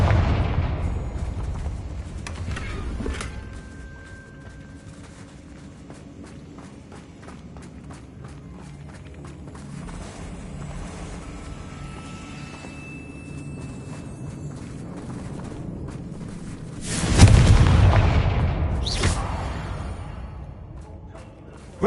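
Confringo fire-spell blasts from the video game Hogwarts Legacy, with a loud explosive burst near the end standing out over busy game ambience and footsteps.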